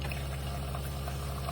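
Water runs steadily from a SimPure Y9A UV countertop reverse osmosis filter dispenser, a continuous close pouring stream with a low pump hum underneath.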